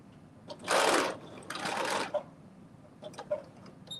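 Home sewing machine making a quick back stitch on a McCall's 8142 garment, two short bursts of stitching close together, followed by faint clicks and handling noises.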